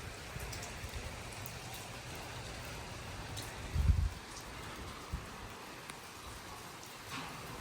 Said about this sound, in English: it's been raining like crazy